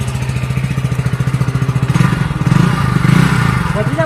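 A bike engine runs close by with a rapid, even thumping idle that grows rougher and louder midway as it is revved, with clatter on top.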